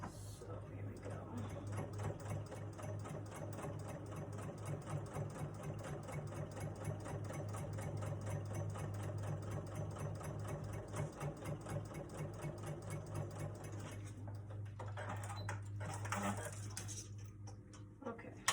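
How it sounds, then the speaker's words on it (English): A Singer Quantum Stylus 9960 sewing machine runs a steady top stitch on a coffee cup change purse, a continuous close rapid mechanical whir with a brief pause near the end. "this is my Singer Quantum Stylus 9960"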